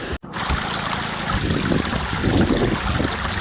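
An Alaska creek flows steadily around a large boulder, a continuous close rush and trickle of water after a brief dropout at the start.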